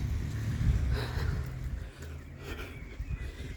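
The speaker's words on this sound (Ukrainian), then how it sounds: "Це, мабуть, машина охорони." A security patrol car passes along a quiet, narrow residential street near a hotel, its low engine rumble loudest at first and then easing away, with no voices over it.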